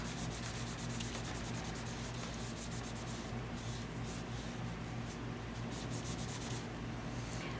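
A cloth rubbing over hands and a work surface while making ATC cards, a steady soft scrubbing texture with faint fast rhythmic strokes, close and continuous with a low background hum.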